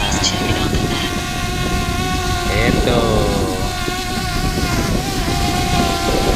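A steady high buzzing whine of a DJI Mavic Mini drone hovering nearby, with shifting pitch, while a person speaks briefly over it.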